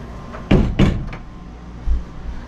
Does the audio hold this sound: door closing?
yes